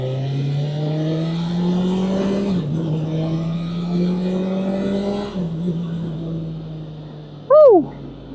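A brand new 2024 BMW S1000RR sport motorcycle being ridden, its engine holding a steady drone with shifts in pitch as it changes gear, then a sharp, loud rising rev near the end.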